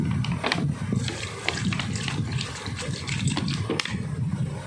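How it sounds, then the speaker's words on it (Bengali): Dried mango pieces and aloo bukhara plums are rinsed under running water, a steady close splashing gush with small knocks and shifts throughout. "এবারে আমচুর আর आलू बखराটা ভালো করে ধুয়ে নিচ্ছি"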